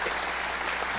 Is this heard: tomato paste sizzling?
no